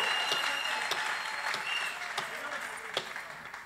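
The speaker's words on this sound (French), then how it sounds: "Nous acclamons pour notre pasteur." Church congregation cheering and applauding for the pastor, a dense wash of clapping from many hands with shouts and voices mixed in, sustained and then easing slightly.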